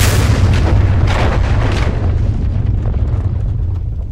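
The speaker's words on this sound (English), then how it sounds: "Get that grenade away from me!" A loud, deep grenade blast in the action game Just Cause 2, a heavy booming rumble that fills the opening seconds and slowly decays into a low roar.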